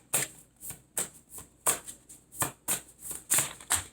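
Tarot cards being shuffled and drawn by hand, a quick run of about nine crisp riffling bursts at a steady rhythm, close and clear, with no voices.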